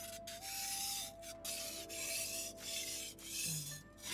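A blade being sharpened on a whetstone: rhythmic rasping strokes, about five long scrapes in steady succession, close and fairly quiet, with faint ringing tones in the background.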